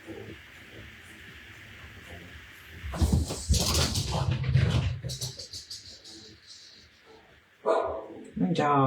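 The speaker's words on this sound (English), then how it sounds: "My dogs." Pet dogs bark indoors in a few loud bursts, with speech around and between the barks.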